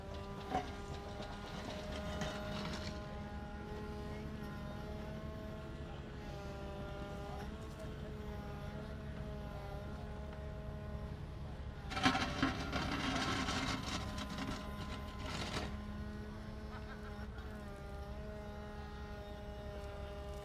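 A Volvo electric excavator works with load-sense hydraulics, producing a steady tonal whine and hum from the electric drive and pumps, with a louder surge of hydraulic effort around the middle, close and continuous without speech.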